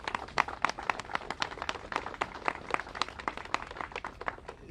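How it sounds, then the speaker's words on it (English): A small audience at a political press event for a congressional delegation claps, giving a sparse, brisk run of individual handclaps at close range that slowly thins out. "Let's give them all a big round of applause."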